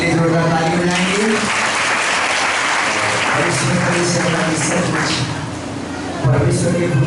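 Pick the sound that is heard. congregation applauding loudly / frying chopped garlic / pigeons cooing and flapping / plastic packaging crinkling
congregation applauding loudly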